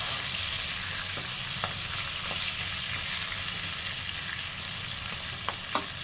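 Eggplant pieces with turmeric fry in hot oil over a high gas flame, giving a steady, dense sizzle throughout, with a few faint clicks of stirring and no voices.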